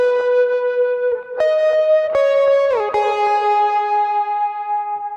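An overdriven electric guitar plays a sustained lead riff high on the neck for the worship song The Blessing, with long singing notes, a few bends and slides, and echo-like ambience, heard alone.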